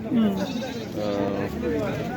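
Goats bleat amid the bustle of the Taherpur livestock market, a couple of short nearby calls rising over steady crowd chatter and someone talking.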